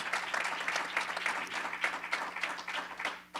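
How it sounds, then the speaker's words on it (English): A gathering claps in a round of applause for a man being honoured, the clapping fairly faint and distant, with a low steady hum underneath and a slight fade at the end. "So let's give a round of applause for Johnny Rogers."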